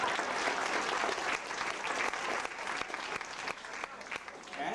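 An audience at a lecture on Ralph Waldo Emerson breaks into applause, a dense, even wash of many hands clapping throughout, fairly distant and moderately loud.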